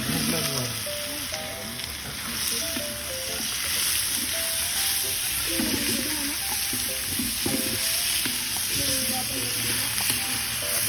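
Cooking oil frying for a snack of sopas, a loud continuous sizzle with crackles and stirring clatter close by, with people talking faintly over it.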